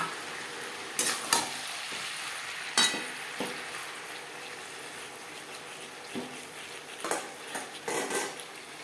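Fish and potatoes fry in a pan for a silver carp curry, a quiet sizzle broken by a spatula stirring and scraping against the metal in scattered bursts, with no talking.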